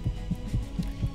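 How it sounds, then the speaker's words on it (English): Low-health heartbeat warning from the video game Blood Omen: Legacy of Kain, a deep, muffled throb repeating about every quarter second, steady and prominent over a low hum. "If this goddamn heartbeat would stop blinging my goddamn ears, that'd be great."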